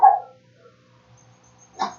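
A dog gives two short barks, one at the start and another near the end, with near silence between them.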